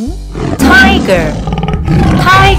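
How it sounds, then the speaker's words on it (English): A tiger roars twice in a cartoon animal quiz game, loud and close, with a short pause between the two bursts. "Tiger,"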